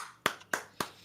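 Three sharp, close hand claps evenly spaced about a quarter second apart, each crisp and bright with a quick decay, alone in a quiet room.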